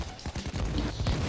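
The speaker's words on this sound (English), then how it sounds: "Those fireworks! Yeah. I threw a grenade into a pile of them" In the video game Payday, a pile of fireworks set off by a grenade bursts in a rapid, dense crackle of loud pops, packed close together over a little more than a second.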